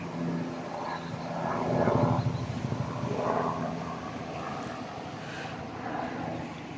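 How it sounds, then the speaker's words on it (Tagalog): A helicopter flying over nature in Finland in summer, a rotor and engine drone that swells as it passes near overhead and then recedes, with faint outdoor background. "May helicopter."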